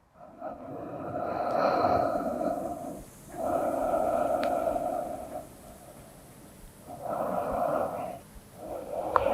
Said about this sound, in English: Focus on quality and anatomy of the breath for the next 3 rounds